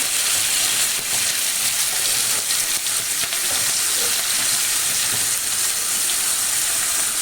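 Pieces of fish fry in hot oil with curry leaves, a loud, dense sizzle that holds steady throughout with brief crackles, and no talking.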